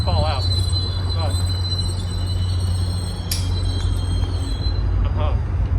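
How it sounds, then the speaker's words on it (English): A train rumbles past near Boston Harbor, a steady loud low roar with high metallic squeals from the wheels and a sharp click partway through, close by under wind. "now there's a train"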